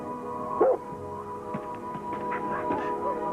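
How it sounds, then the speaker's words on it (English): A dog gives a single short bark early on, followed by faint yips and whimpers over a steady background hum, with no talking. "my dog Barney is becoming antsy"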